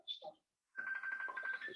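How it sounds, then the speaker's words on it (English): A phone ringtone plays after a brief burst of speech, a sustained warbling electronic tone that pulses rapidly, fairly close and clear. "Somebody's ringing me."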